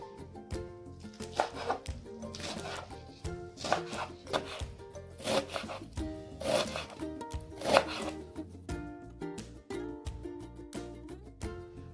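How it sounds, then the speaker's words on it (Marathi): Greens for sarson ka saag are chopped finely with a knife on a board, a close, irregular series of sharp cuts, some clustered and some spaced apart, with no voices. "हटवा देखील आपल्याला बारीक चिरून घ्यायचा आहे"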